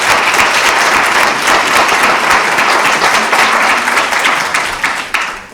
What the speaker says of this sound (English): A round of applause for Professor Hoffman.